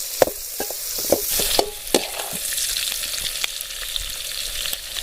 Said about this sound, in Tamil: வெங்காயத்தை நல்லா ஃபுல்லாக வணக்கிறாதீங்க, அரைவேக்காடு மட்டும் வணக்குங்க.